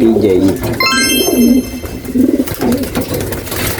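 Pigeons in a loft cooing loudly and close, repeated low rolling coos with a brief high whistling sweep near the start, continuing in uneven bursts.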